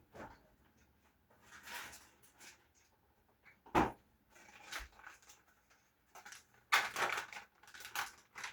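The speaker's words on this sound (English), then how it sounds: "but I want to add cranberries because I have them. So I'm going to chop up some here." Cranberries chopped with a knife on a board in a home kitchen, heard as scattered, faint-to-moderate cutting taps with a few sharper knocks and irregular pauses between strokes.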